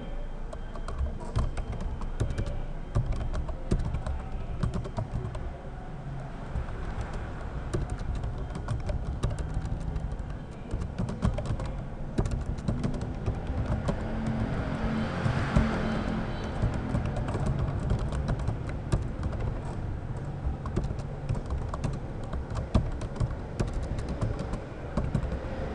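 Typing on a computer keyboard while writing a document in LibreOffice Writer on Ubuntu Linux, rapid close clicking keystrokes in continuous bursts over a faint background hum.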